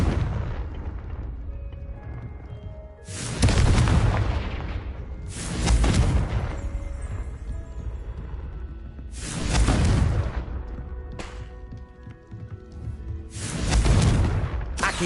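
Confringo blasting spells in the Hogwarts Legacy video game on PS5 set off four heavy, booming explosions a few seconds apart, each a loud burst with a rumbling tail, over a low background din.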